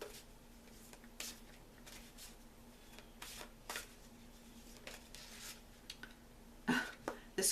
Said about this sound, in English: I am going to shuffle the Archangel Michael prayer cards